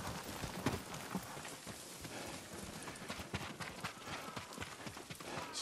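Horse hooves in the video game Ghost of Tsushima, a quiet continuous patter of clip-clop steps over rough terrain, muffled and fairly distant, with no talk.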